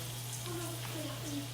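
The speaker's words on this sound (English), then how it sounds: "So you can see we're sauteing up" Chicken sautéing in a pan for chicken piccata gives a faint, steady sizzle with a low electrical hum beneath it, while a voice talks softly over it.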